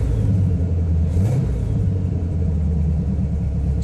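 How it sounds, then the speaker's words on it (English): A Manta Mirage sports car's engine runs at a steady idle with high-energy ignition, a continuous low rumble close by with a slight rev swelling around the first second and a half, no voices. "Even though the Manta is a high-performance vehicle, it starts and runs like a stock car."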